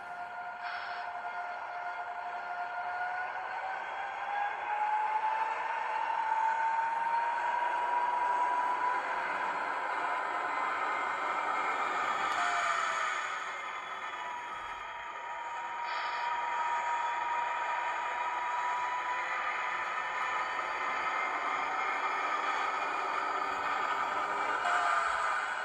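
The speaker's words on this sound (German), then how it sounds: "Ich setze die Lok auch einmal in Bewegung." A Roco BR132 DR-era model diesel locomotive with Henning DCC sound pulls away, giving a sustained electronic engine drone with a slowly rising whine. It stays steady and moderately loud throughout, with a brief dip midway and no talking.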